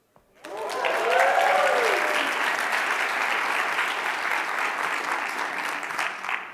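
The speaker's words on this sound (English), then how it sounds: "I want you to remember you guys clapping" A large audience applauds at a talk with sustained, dense clapping that swells quickly and holds steady, with no speech over it.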